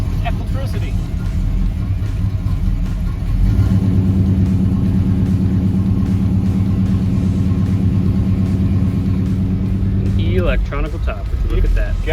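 An electric convertible top on a 1964 Pontiac GTO runs with a steady, fairly loud motor hum and low rumble, rising slightly partway through. A brief voice comes in near the end.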